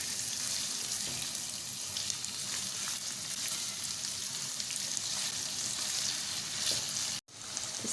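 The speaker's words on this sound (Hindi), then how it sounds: "अच्छे से हम भूनेंगे।" Beef frying in a pan with added seasoning during cooking of beef achari: steady dense sizzling with faint crackles, close and continuous, briefly cut near the end, no talking.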